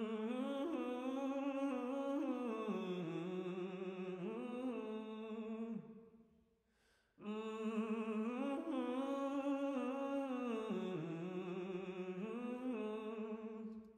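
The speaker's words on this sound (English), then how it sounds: "This is the original vocal. It sounds like this." A solo hummed vocal ad lib, a smooth melodic voice with gliding pitch in two phrases separated by a brief pause, clear and close, with no other sounds.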